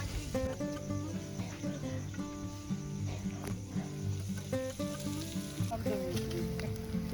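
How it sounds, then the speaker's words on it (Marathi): Marinated chicken pieces sizzling in oil on a hot clay roof tile, a steady crackling fry with music playing over it. "कौल गरम झाल्यानंतर आम्ही चिकनचे तुकडे ऍड करतो तेल पण लावून घेतो त्याला"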